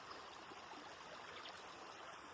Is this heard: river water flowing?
yes